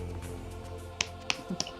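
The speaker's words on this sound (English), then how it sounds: "Lincoln makes a weird clapping sound whenever he presses the button" A character in Metal Gear Solid makes a weird clapping sound each time he presses a button: three or four sharp snap-like claps spaced irregularly over a steady low background hum, with no talk.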